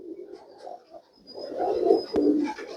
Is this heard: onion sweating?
no